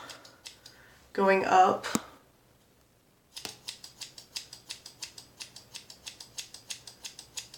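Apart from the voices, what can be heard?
scissors trimming long pieces of bangs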